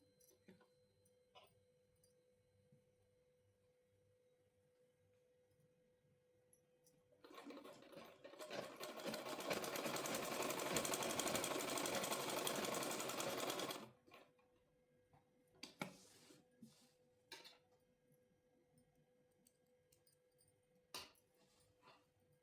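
A sewing machine stitches palazzo pants in one continuous run of about six seconds, a fast, even whirring buzz set amid quiet handling clicks and rustles before and after.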